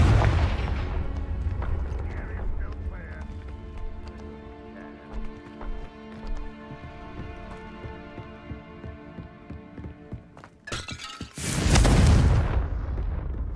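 Confringo blasting spell in Hogwarts Legacy, fired with deep booming explosions: a heavy thud at the start, scattered impacts and a ringing lull, then a loud roaring blast near the end.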